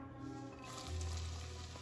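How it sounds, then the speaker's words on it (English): Sage-seasoned cornbread dressing ingredients sizzling slowly in a pan over low heat, a soft, steady frying hiss with no talk. "I can hear them sizzling"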